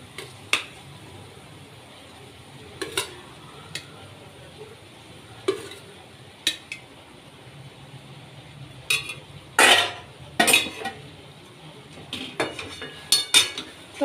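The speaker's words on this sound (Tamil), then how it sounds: "இப்போ சாதத்தை போட்டு நல்லா மிக்ஸ் பண்ணி விட்டுடலாம்." Spoon scraping and clinking against a pan as cooked rice is stirred into thick, simmered tamarind paste for quick tamarind rice, in scattered short bursts over a quiet background.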